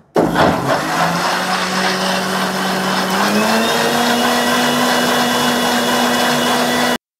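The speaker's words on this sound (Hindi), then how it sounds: "सेब का छिलका है वो पानी में अच्छी तरीके से ब्लेंड हो गया है" A kitchen mixer starts with a jolt and then whirs steadily at high speed, blending apple peels with water, liquid churning inside, loud and continuous until it cuts off.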